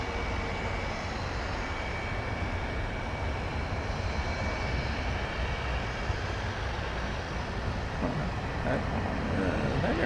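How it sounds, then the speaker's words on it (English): An unmarked airplane at DFW airport rumbles steadily with a loud, continuous engine roar that holds level throughout, with no voices. "That aircraft appears to have no markings whatsoever."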